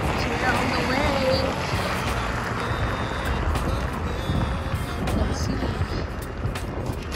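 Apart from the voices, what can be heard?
scooter driving slowly in snow in Norway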